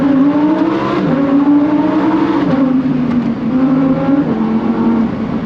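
A Lamborghini accelerates hard through its gears, the loud engine note climbing, dropping briefly at each shift, then climbing again, close and continuous with no talk.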